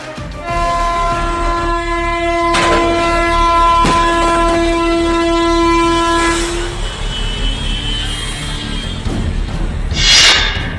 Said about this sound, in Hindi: इधर ट्रेन का ड्राइवर तेजी से हॉर्न दे रहा है